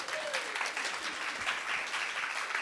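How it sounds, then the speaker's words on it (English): An audience claps in a steady wash of applause, moderately loud and sustained throughout with no talking. "let's give a warm applause again to Linda Björk."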